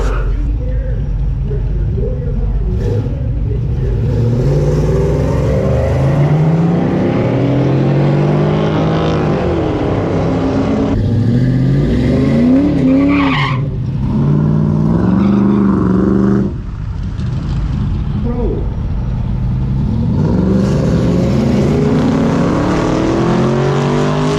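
A Chevelle drag car on its first pass at a Rocky Mountain race week revs hard and roars steadily for a long stretch, loud and close, with people talking over the engine.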